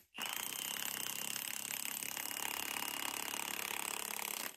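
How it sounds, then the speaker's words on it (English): A hammer drill chatters loudly and steadily as it bores a 3/8 hole into concrete, starting abruptly and running without pause, then cutting off. "I'm going to drill a 3/8 hole and use the 3/8 Tapcon"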